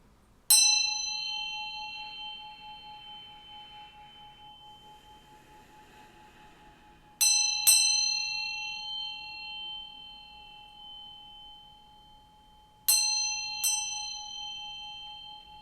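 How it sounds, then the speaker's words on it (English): A bell is struck five times in three spaced groups, each strike clear and bright with a long ringing decay, alone in a quiet room. "I'm going to ring this bell to bring in some good vibes"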